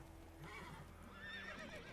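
Horse whinnying in The Witcher 3 video game, a high wavering neigh rising over a steady low game ambience, heard alone without talk.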